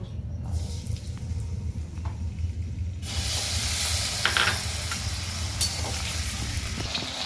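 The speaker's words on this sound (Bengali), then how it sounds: "এবার আমরা আলুগুলোকে ভেজে নেব।" Potatoes frying in mustard oil in a wok: a quiet low rumble at first, then a loud bright hiss of sizzling oil that starts abruptly and holds steady, close up with no talk.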